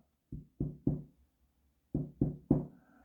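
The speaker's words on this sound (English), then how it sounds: "Goldilocks tapped on the door" Knocking on a cottage door in a storybook setting: two clear groups of three hollow wooden knocks, close and moderately loud, with a pause between the groups and no voices.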